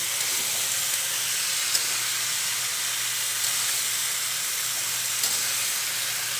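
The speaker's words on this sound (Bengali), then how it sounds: "এখন সবজিটাকে ভালো করে কষালে কিন্তু অনেকটা কমে যাবে।" Vegetables sautéing in a pan for a Bengali summer curry give a steady, close sizzle and frying hiss with a low hum beneath. A few faint taps of stirring are heard, and nobody speaks.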